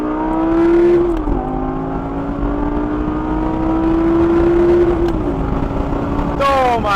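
A 2012 Lamborghini Gallardo LP 560-4 Spyder engine revs hard and close, its pitch climbing, dipping briefly as it shifts, then rising again before another sharp surge at the end.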